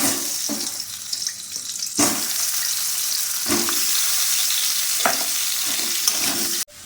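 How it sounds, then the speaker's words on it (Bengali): Turmeric-coated potato pieces fry in white oil, a loud, steady close sizzle broken every second or so by the scrape and clatter of stirring. "সাদা তেল দিলাম আলু ভাজার জন্য"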